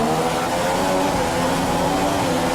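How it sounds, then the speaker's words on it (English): Engine of a Formula 1 car in the F1 2015 racing game at the Brazil circuit, droning steadily and loudly as it leaves the pit lane, with no speech. "Let's get some heat into those tyres. So we exit the pits now."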